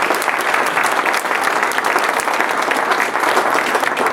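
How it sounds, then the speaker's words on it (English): Steady, dense clapping from a large audience at an alumni awards ceremony, loud and sustained throughout without pause. "Let's give him a round of applause just for that."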